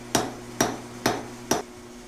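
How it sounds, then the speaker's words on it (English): Hammer forging the tip of a Japanese sashimi knife blade, four evenly spaced sharp metallic strikes about half a second apart, close and clear with a faint ring after each, no talking. "I'm forging the point of the blade,"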